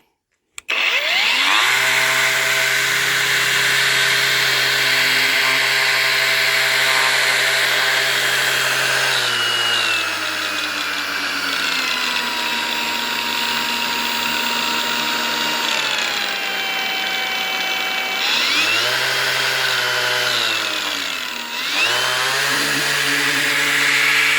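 An Einhell angle grinder fitted with an unbalanced disc runs loud and steady, its whine holding, then sagging and recovering in pitch a few times as the speed wavers.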